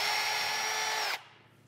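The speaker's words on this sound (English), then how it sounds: "drill my first hole" A power drill fitted with a sharp bit whines steadily and loudly as it bores a hole in wood for about a second, then cuts off abruptly and leaves a quiet room tone.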